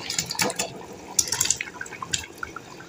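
Fried chicken goes into a pot of turnip yakhni broth in a Punjab village kitchen, giving a few close splashes and liquid drips in short bursts.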